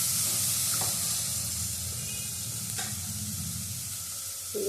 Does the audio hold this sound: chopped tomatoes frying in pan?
yes